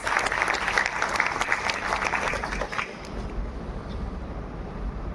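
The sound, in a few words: audience applause welcoming a speaker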